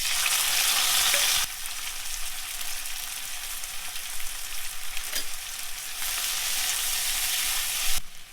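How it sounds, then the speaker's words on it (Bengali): Onion and tomato with a little sugar hiss in hot oil for a Bengali fish jhal, a loud, steady sizzle that surges at the start and carries on with small crackles and a clatter near the end. "তেলের মধ্যে দেবো অল্প করে চিনি, কেটে রাখা পেঁয়াজ, টমেটো একসাথে দিয়ে দেবো।"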